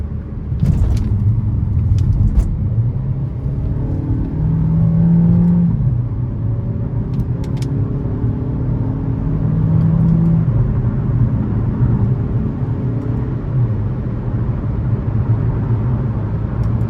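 A 2014 Buick Encore 1.4T turbo accelerates onto an interstate in manual mode, its engine droning and rising in pitch through several gear steps, heard steadily from inside the cabin.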